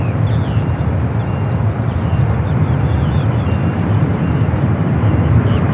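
A Delta heavy airliner arriving from Atlanta at San Francisco airport roars steadily, a loud broad jet rumble holding constant throughout with no talk.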